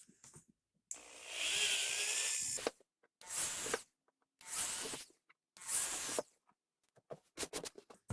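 Drilling holes with a 15/64 drill bit sized for number 12 bolts, in a homemade claymaker build: four separate bursts of power-drill whine and cutting noise, a long one followed by three shorter ones, close and loud with no talk.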